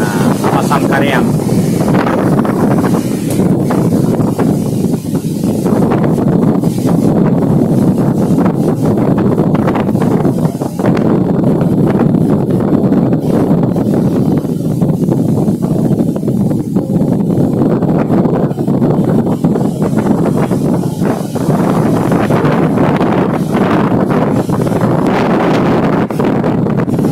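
Strong storm wind buffets the microphone on a beach by the sea, a constant loud roaring rush with gusty swells that never lets up over nearly half a minute.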